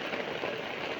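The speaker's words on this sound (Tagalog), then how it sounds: "Ayan, napakalakas yung ulan mga kami malabs." Heavy rain pours steadily, a dense close hiss of drops drumming on surfaces with no break.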